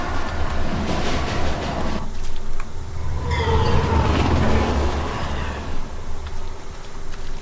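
A train rumbles past in the video game Legendary, a continuous loud rolling clatter with rising screeches and metallic tones, heard close and full throughout.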